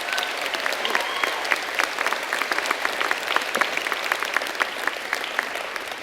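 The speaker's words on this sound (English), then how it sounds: "give all of those folks a round of applause for their role in your success today" An audience at a university commencement ceremony breaks into sustained, even applause, a dense spread of many clapping hands held at a steady level for several seconds with no speech over it.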